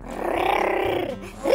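A voice imitates a lion's roar with one drawn-out, throaty growl held close and loud, which sinks away and then flares into a short rasp at the end.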